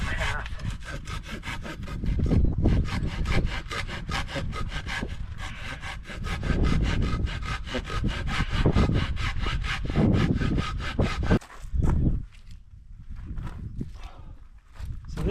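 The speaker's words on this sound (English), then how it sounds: "I'm just going to use my saw to make a notch in here" A hand saw cutting a notch into a log to make a Canadian torch, steady rhythmic back-and-forth rasping strokes, close and loud, pausing briefly near the end, with someone talking.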